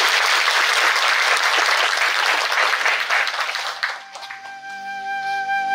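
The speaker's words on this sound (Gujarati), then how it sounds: "એટલે એક વાર જોરદાર તાળી એમના માટે." An audience at a satsang gathering in Bilpudi, Dharampur, claps in loud, dense applause for about four seconds, then the clapping thins out as a sustained musical tone and a few scattered claps follow.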